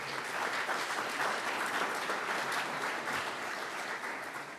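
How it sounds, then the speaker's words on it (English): A room full of people at a Rotary Club meeting gives a steady round of applause for program helpers, dense even clapping that holds at a fairly constant level throughout. "if you can give them a big round of applause"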